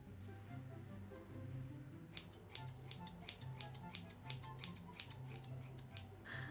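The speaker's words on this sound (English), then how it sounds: "So I'm gonna try and cut myself a wolf cut." Scissors cutting hair into a wolf cut at home: a string of close, crisp snips starting a couple of seconds in and repeating at an uneven pace over a soft low rumble, with no talking.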